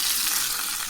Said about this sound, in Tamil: தாளிச்சுட்டு இதில் கொட்டிக்கலாம்.